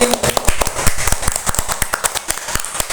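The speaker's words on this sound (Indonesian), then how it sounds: "Tepuk tangan untuk kelompok kucing." Schoolchildren in a classroom clap their hands, a fast run of sharp, loud claps from a group, uneven and overlapping, with no one speaking over it.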